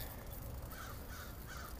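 Three short caws from a crow, rough and hoarse, heard against a loud, steady wash of outdoor noise, fairly distant and faint.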